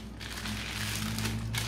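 A plastic bag wrapped around a package holding a bottle of syrup crinkles and rustles steadily up close as it is unwrapped.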